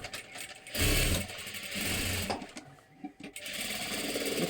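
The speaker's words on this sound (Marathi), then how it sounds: "परत इथे अशी डबल शिलाई देऊन घ्यायची" A sewing machine running in fast bursts while double-stitching the sleeve seam of a readymade dress, with a loud close mechanical whir that pauses briefly and then resumes.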